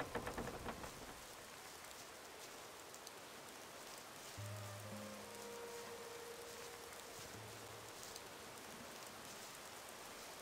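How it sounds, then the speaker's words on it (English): Steady rain falls across a Gothic 2 game world, a dense even hiss that fills the whole stretch at a moderate level, with a low hum briefly rising beneath it partway through. "rain is going to make it hard"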